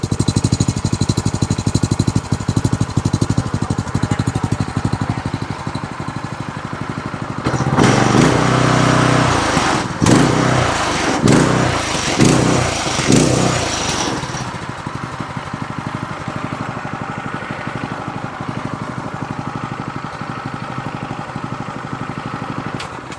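A Predator 212 cc small engine fitted to an E-Ton runs with a steady, loud puttering drone, briefly revving louder for several seconds in the middle before settling back to a rough idle.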